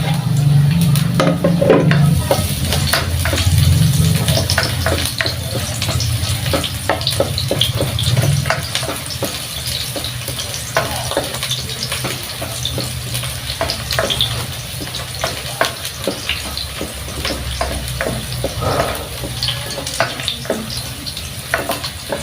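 Garlic browns in a hot pan for caldereta, giving a steady, close sizzle broken by frequent scraping and stirring strokes throughout.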